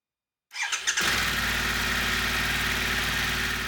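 Brief silence, then a motorcycle engine cranks with a few chugs and catches, settling into a loud, steady idle.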